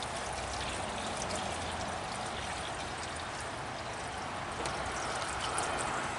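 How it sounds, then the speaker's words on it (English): Water pouring steadily into the engine block of a Dodge truck, a continuous splashing trickle that runs at an even, close level throughout with no talking. "if you pour water in it, if it's immediately going to go into the oil pan"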